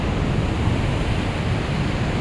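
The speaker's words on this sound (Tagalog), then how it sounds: "Malaki ngayon ng alon." A continuous roar of big ocean waves churning nearby, loud and unbroken, with some wind rumble mixed in.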